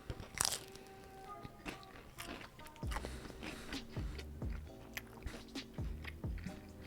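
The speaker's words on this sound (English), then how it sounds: "Let me take another bite." Close, crunchy bites and chewing of a spicy cottage cheese egg base dish, a string of irregular crisp crunches and wet mouth sounds at low volume with no talking.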